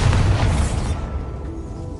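A Bombarda spell explosion in Hogwarts Legacy on PS5, a single loud, close, deep boom at the start that rumbles and fades over about a second, with no talking.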